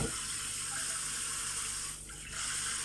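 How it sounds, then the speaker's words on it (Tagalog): Tap water runs continuously into a sink as items are washed beneath it, a close, steady gushing stream that briefly changes tone and softens as something passes under the flow. "Hugasan ko muna itong lahat."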